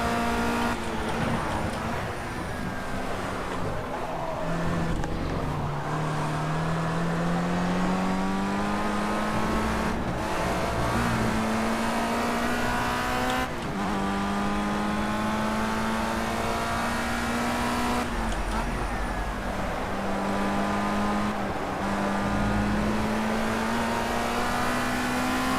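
A front-wheel-drive, four-speed race car in the Project Cars racing game, in Formula Rookie career mode, drives hard. The engine revs up again and again with clear gear shifts every few seconds, a loud, steady drone with no talk over it.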